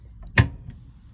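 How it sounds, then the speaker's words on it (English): A magnetic pull-down cabinet drawer snaps open with a single sharp click and thud, close and clear, followed by faint small knocks in a quiet room. "We have a magnetic pull down drawer"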